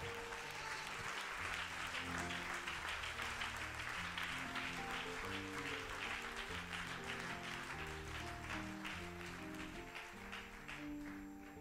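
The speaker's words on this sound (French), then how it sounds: "Oh mon frère, ma soeur, acclame-le." A church congregation claps steadily and loudly throughout at a Christmas Sunday service, a dense sustained wave of applause with music or voices faintly underneath.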